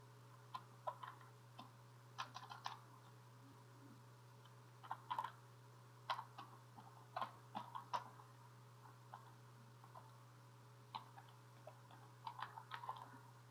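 Light, irregular clicks of typing on a computer keyboard while entering text in Microsoft Word, quiet and close, with short pauses between bursts of keystrokes over a steady low hum.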